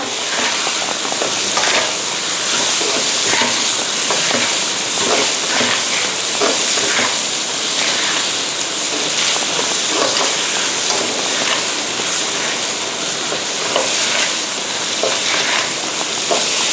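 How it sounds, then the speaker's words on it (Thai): Fried shrimp tossed in a wok with seasonings and Chinese wine for salt-and-chili shrimp give a steady, loud sizzling hiss, with frequent scraping stirs throughout. "เติมลงไปค่ะ ผัดให้เข้ากันนะคะ"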